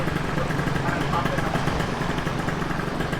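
A Kawasaki ZX motorcycle engine, a ZX 34 with aftermarket modifications, idles steadily after being started, a loud continuous rumble with people talking over it.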